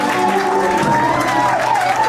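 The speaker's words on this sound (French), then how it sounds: "Votre applaudissement." Audience applause and crowd noise at a Haitian wedding ceremony, a steady dense wash of clapping right after the couple is pronounced married, with a voice or sustained tone running underneath throughout.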